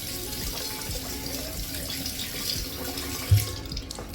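A bathroom tap runs steadily into a sink as a makeup sponge is wetted, a soft continuous trickle and splash heard close by without talk.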